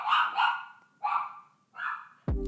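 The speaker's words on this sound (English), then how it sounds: "I was very rudely interrupted by my dog" A dog barks close by in a home, a quick double bark followed by two more single barks, then a sharp thump at the end.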